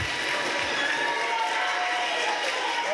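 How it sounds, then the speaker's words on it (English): Applause from a school awards assembly audience fills the space as steady, dense clapping that holds evenly at a moderate level throughout. "let's give this group that I announced a big, big round of applause."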